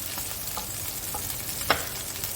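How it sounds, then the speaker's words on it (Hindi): Minced meat (keema) fries in a pot with a steady broadband sizzle, broken by a few soft scrapes and one sharper stir or clink near the end. No voice. "ये हमने कीमे को लिया भून"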